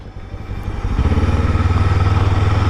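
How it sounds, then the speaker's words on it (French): A Kawasaki Ninja 7 Hybrid motorcycle engine kicks back in while riding, rising from a low hum to a loud, steady pulsing drone close by. "Le moteur il se réenclenche."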